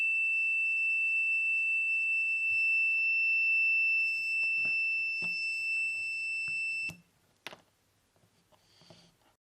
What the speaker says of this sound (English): This is a simple way to add a charging completion alarm.